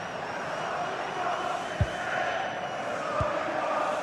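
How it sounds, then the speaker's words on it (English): A football video game crowd roars in a steady, distant wash of cheering and chanting, with a few dull thuds cutting through. "Well, just listen to this crowd. They want a bit more."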